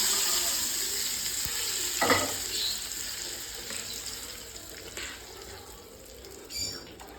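A hot tempering of mustard seeds, dried red chillies, cumin and sesame in oil is poured into a dish, setting off a steady close sizzle with a few sharper bursts and clinks as it spreads.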